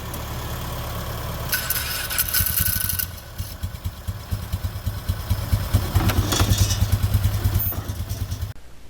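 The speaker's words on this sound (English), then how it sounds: "Polaris quit and he had to restart it?" Polaris utility vehicle engine outdoors on a farm: a rough idling clatter that stumbles, followed by starter cranking and the engine catching again into a chugging, uneven idle, fairly close with no talking.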